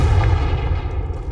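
Confringo fire blast spell in Hogwarts Legacy, a short heavy booming burst with a dense low rumble that fades over about a second, loud and close.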